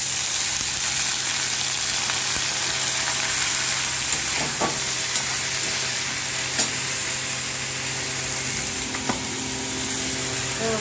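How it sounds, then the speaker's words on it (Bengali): Ivy gourd (kundri) frying in hot oil with tempered nigella seeds, bay leaf and dried red chilli, a steady close sizzle with a few light stirring clicks throughout, no talking. "এবার কুঁদরিগুলো দিয়ে দেবো।"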